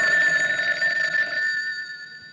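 An electronic telephone ring sounds steadily and clearly for about a second and a half, then fades into a decaying tail, with no talking over it.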